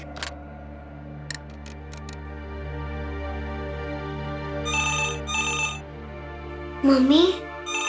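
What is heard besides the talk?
phone ringing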